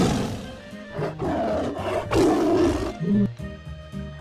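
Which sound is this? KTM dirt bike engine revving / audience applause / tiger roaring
tiger roaring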